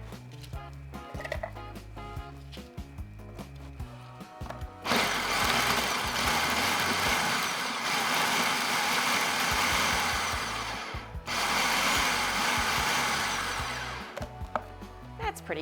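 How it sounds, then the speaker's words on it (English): A food processor chops sliced cabbage in two bursts of loud, steady whirring, with knocking, clattering handling noises before, between and after. "Now I'm going to slice the cabbage, give it a little chop, and put it in my food processor."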